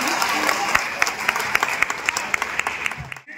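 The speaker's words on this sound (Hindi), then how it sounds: "तालियां थोड़ी सी कमजोर है, ताली ऐसे नहीं बजाई जाती है" Applause from an audience at a cultural event in Patna, a dense steady clapping that runs for a few seconds and then cuts off abruptly.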